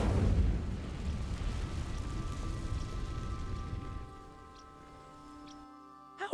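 Incendio fire spell cast in the video game Hogwarts Legacy: a dense, crackling burst of flame noise that rumbles for about four seconds, then drops to a faint tonal hum with soft chimes and a brief final hit.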